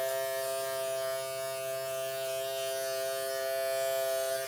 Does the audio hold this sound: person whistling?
no